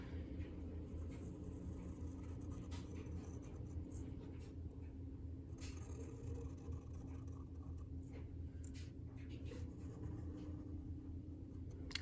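A pencil draws the outline of a mug on paper, producing a faint, steady scratching that continues throughout under a low background hum.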